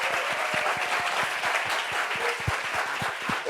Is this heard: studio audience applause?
yes